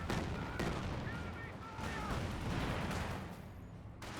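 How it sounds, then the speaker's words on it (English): A Calliope rocket barrage in the video game Company of Heroes 2 lands as a dense, continuous rumble of overlapping explosions, with a few sharper bursts standing out from the steady, loud wash of battle noise. "Now here comes Calliope Rocket Barrage."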